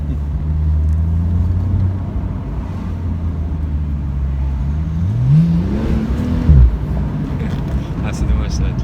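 A Porsche Turbo S pulls hard under acceleration, a loud, continuous engine roar rising steadily in pitch with a brief gearshift dip, heard from inside the car under road noise.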